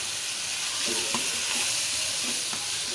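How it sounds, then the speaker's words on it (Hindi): Homemade ground achari masala with turmeric and bottle gourd roasts in a pan, making a steady, close, hissing sizzle with occasional soft stirring scrapes and no voices. "अब ये भुनाई शुरू हो गई है।"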